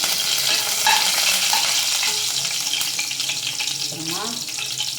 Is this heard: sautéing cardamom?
yes